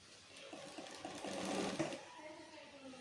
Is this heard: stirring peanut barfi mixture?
no